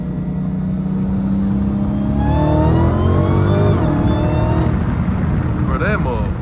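A Dodge Hellcat accelerates hard from a roll and slides sideways through a long curve, its engine a loud rising rumble heard from inside the car with the revs climbing, while someone talks over it.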